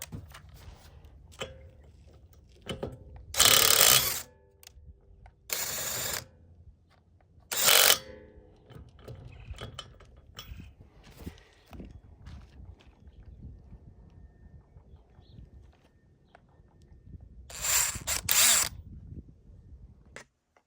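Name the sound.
18V SubCompact brushless right angle impact wrench in auto mode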